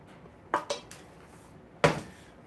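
A dog's food bowl being handled, several sharp clinks and knocks: two close together, a faint one, then a louder clatter after a pause, in a quiet room with no talk.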